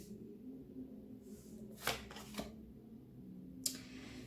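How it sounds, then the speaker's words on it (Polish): Tarot cards being shuffled by hand, soft quiet riffles in three short bursts against a faint background, with no talking. "Jak zaczynałam tasować, czekajcie, tak żebyście wy to widzieli."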